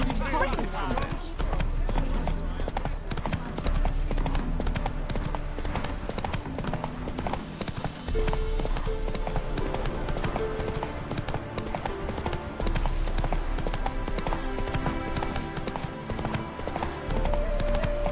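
Hooves of Roach, Geralt's horse in the game Witcher 3, clip-clop in a steady rhythm throughout, with game music playing and someone talking over them.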